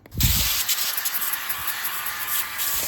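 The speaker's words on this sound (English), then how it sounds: "Then you are gonna spray them with some oil." A continuous close-up hiss of oil being sprayed from a can onto potato wedges, starting abruptly after a brief tap and steady for a few seconds.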